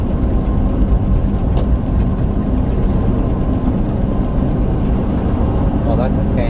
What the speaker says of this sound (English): Holy crap, there's a semi.